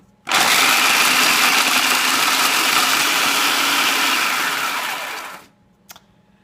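A blender purees cheesecake crust into fine crumbs, roaring loud and steady for about five seconds before winding down and stopping, followed by a brief click.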